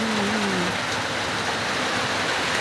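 Steady, loud rain falling in a rural village, a continuous dense hiss of drops on surfaces with a brief low hum near the start, no talking.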